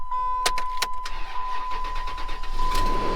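A Ram 1500 pickup truck engine cranks with a few sharp clicks, then turns over and settles into a running rumble, with a steady tone beneath.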